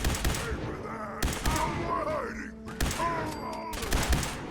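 Video game gunfire with several sharp shot bursts spaced a second or so apart, crackling against a muffled game backdrop while someone talks between the volleys.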